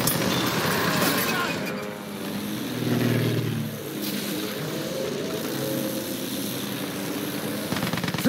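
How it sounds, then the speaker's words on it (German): Enemy airplane flying overhead in Battlefield 1, a droning engine roar that rises and sweeps past around the middle and sits among constant battle noise. Voices can be heard in the background. "Feindliches Flugzeug gesichtet."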